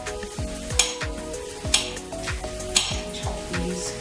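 Onions and mushrooms frying in a pan, a steady close sizzle broken by repeated scraping stirs and occasional clinks of the utensil against the pan, with no talking.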